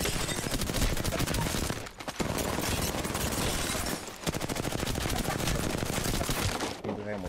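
Sustained automatic weapon fire in the video game Apex Legends rattles loud and close, in long rapid bursts broken by two brief gaps and ending abruptly.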